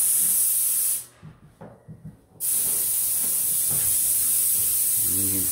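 A spray gun lays paint over Bondo filler in close, loud hissing bursts, with a brief pause in the middle before the spray resumes steadily.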